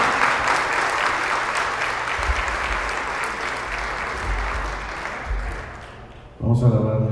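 A Catholic charismatic renewal conference congregation applauding in a large hall, sustained loud clapping from a big crowd that fades slightly before a voice starts speaking at the end.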